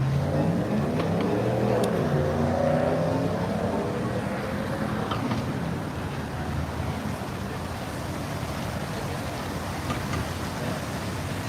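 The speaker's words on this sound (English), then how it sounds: "Let's take a look at the beautiful vehicles and all the traffic out here." Night traffic on the Las Vegas Strip rolls past in front of Caesars, a dense steady roar of car engines with one vehicle accelerating nearby, continuous and fairly loud throughout.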